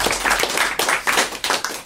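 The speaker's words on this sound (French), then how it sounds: "On vous applaudit et on vous remercie, monsieur." A studio audience on a French television talk show claps steadily for about two seconds, a dense burst of many hands with no voices over it.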